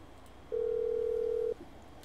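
Cell phone dial tone in a roleplay video game, a single steady electronic tone lasting about one second against quiet background hiss, rising suddenly and cutting off just as abruptly.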